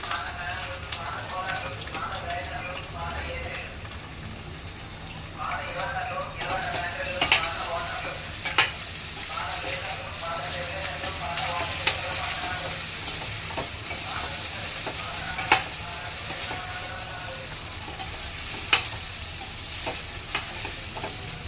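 Curry leaves crackle and fry in hot oil in a pan while being stirred, a steady close sizzle broken by sharp pops and occasional utensil scrapes, with faint voices in the background.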